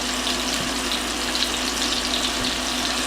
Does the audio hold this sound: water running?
yes